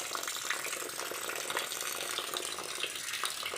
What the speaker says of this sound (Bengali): তো চলো ঝটফট করে ধুয়ে নিই সর্ষাটা